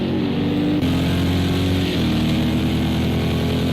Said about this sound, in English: That is my favourite GTE engine noise, that Corvette.